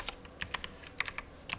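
Light, quick keystrokes on a computer keyboard during a live HTML and CSS coding session, about a dozen clicks in an uneven rhythm, quiet and close with no talk.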